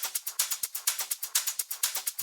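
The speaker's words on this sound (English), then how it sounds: "So it's pretty much just 4 different shakers." Four layered shaker top loops for house music play together as a quick, bright, airy pattern of steady rhythmic shakes, crisp and even, with no other instruments.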